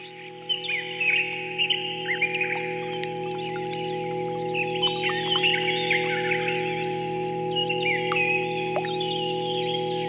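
A marsh warbler sings a rapid, varied song of chirps and phrases, mimicking other birds, clear and fairly close over a steady low hum.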